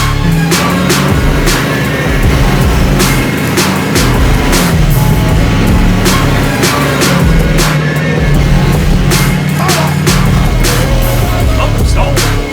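A Hummer H1 on 38-inch mud tires drives through snow, its engine a loud, continuous low rumble that rises and falls, with frequent sharp knocks and clatters breaking through.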